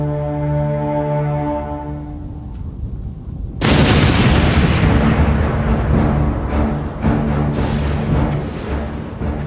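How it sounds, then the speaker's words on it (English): Big Bertha, the giant German siege cannon, fires a single massive booming blast that cuts in abruptly over a low droning tone, followed by a long rumbling decay with scattered crackles. "Big Bertha, the world's largest cannon."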